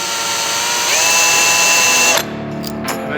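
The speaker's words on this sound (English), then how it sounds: "grab one of these, which is countersink deburring tool, put it on a drill" A power drill fitted with a countersink deburring tool whirs steadily at high speed, pitch rising slightly as it works, then cuts off abruptly, followed by a few faint clicks.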